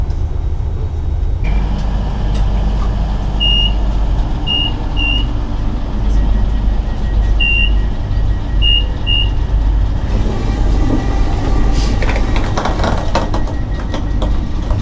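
A train arrives at Stonehaven station, heard from on board as a steady, loud low rumble, with a few faint high beeps and a brighter clatter late on.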